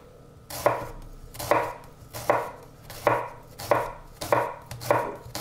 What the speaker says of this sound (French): Et on va venir le couper assez finement.